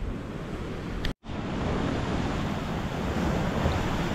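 Rough ocean surf on a Big Island shore roars as a steady broadband wash with wind noise buffeting the microphone, loud and continuous apart from one brief dropout.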